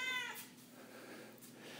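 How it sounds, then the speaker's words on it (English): A house cat gives a single short meow near the start, fairly close, then quiet room tone follows with a faint second cry near the end. "My cat is demanding attention."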